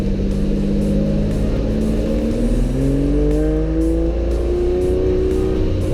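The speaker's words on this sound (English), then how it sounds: "Through town in a racing car. It's quite loud." A road-legal racing car linked to the Nurburgring 24 Hours drives loudly through town, its engine a continuous close roar with rising and falling pitch sweeps as it accelerates and changes gear, with no talk over it.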